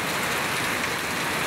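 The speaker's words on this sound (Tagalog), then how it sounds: "Pakalakas idol na ulan." Heavy, continuous rain pouring down in an unbroken, loud hiss of drops on surfaces, steady with no lulls and no voices.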